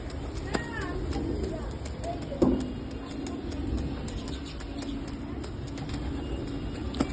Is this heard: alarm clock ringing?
no